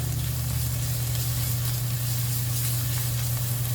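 Onion and minced garlic sauté in a pan with a steady, close sizzle and a low background hum, with no talking.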